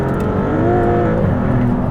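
Rear-mounted engine of a Maserati GT2 Stradale race car, a loud continuous mechanical drone with layered harmonic whine heard from inside, holding steady without pause.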